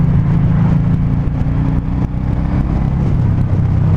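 A 2019 Suzuki M109R motorcycle engine pulls hard with a loud, continuous low rumble and strong hum for several seconds, with no talking.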